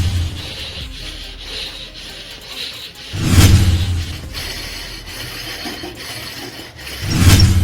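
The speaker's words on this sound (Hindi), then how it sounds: "तो इसको हम बराबर कैसे करेंगे, घिस के।" Rubbing down excess material on a part of a sugarcane juice machine to level it, heard as a close, gritty scraping that comes in two louder bursts separated by softer rasping and faint mechanical clicks.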